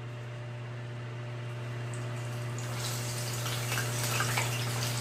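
Breaded frog legs frying in hot oil a couple at a time, a soft crackling sizzle that builds and grows busier over a few seconds beneath a steady low hum.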